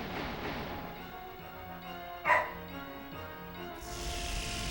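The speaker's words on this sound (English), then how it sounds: "Sorry about the barking." A house dog gives one short, sharp bark midway through, cutting above steady background music and sound effects from the role-playing game Wild Arms 3 being played nearby.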